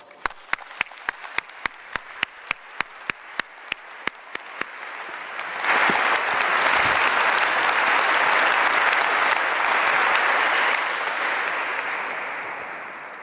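Inside St Paul's Cathedral, a large audience greets a speaker with applause: a few scattered claps at first, then a full, sustained roar of clapping that swells and slowly fades.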